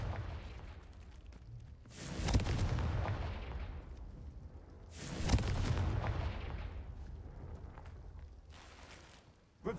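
Two heavy blasts of the Confringo fire spell in the game Hogwarts Legacy, each a sudden booming burst that rolls off into a long fading rumble, with a third blast starting at the very end.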